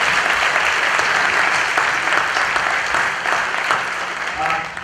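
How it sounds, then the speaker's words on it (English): Sustained audience applause fills a forum hall, steady and dense throughout, with a slight fade toward the end. "We should give him an applause."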